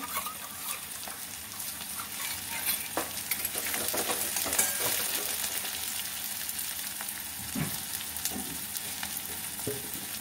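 Spice paste for a jackfruit kofta curry sizzles and bubbles in a pan as it is stirred with added water, a steady close frying hiss with occasional scraping clicks throughout.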